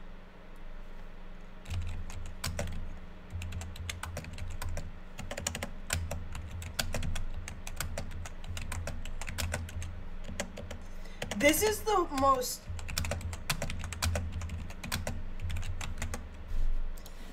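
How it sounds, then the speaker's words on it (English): Keys clack on a computer keyboard in quick, irregular bursts of close, sharp taps that run throughout, with a low hum beneath and a short stretch of speech near the end. "This is the most horrible keyboard."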